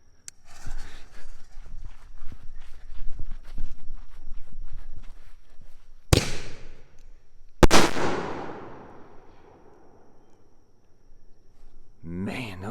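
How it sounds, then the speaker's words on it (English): Two sharp double salute firework blasts go off on the Fourth of July, one near 6 seconds and a louder one near 7.7 seconds, each with a ringing decay, after a stretch of footsteps and faint talk. "I'm gonna light another one of these double salutes"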